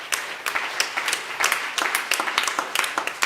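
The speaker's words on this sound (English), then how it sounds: "Let's give the Lord a hand clap of praise" A church congregation applauding together at a Baptist service, with dense, fairly loud rapid hand clapping that holds steady throughout.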